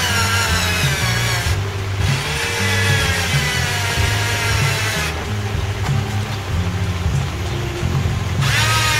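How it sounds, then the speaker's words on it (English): A cordless drill runs continuously during fiberglass deck core repair on a Tartan 27 sailboat, giving a loud, steady motor whine with a buzzing hum that holds unbroken throughout. "I should have charged my drill."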